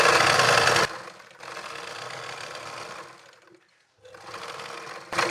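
An electric sewing machine stitches along the edge of a fabric lining in steady, buzzing runs, stopping briefly and then starting again, close and fairly quiet.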